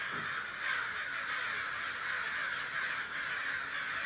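Crows cawing in the open, harsh calls repeating over a steady hiss of outdoor background, moderately distant and fairly faint, with no voices.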